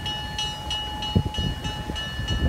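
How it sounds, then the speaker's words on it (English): A Downeast Scenic Railroad train rolls past close by, its steady rumble and rhythmic wheel clicks on the rails heard under a sustained tonal hum. "Oh, this is a good sized train today though"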